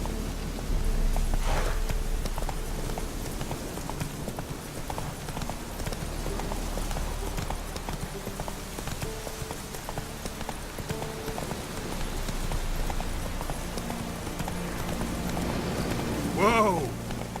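Roach, a horse in The Witcher 3 video game, gallops with a steady, rapid clip-clop of hooves throughout, over a constant rushing background, and a brief voice or horse cry rises near the end.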